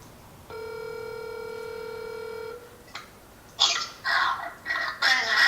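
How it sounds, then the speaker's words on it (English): An outgoing phone call rings with one steady electronic ring tone lasting about two seconds, then a faint click before short bursts of hiss and noise. "I think I'm gonna call my mom."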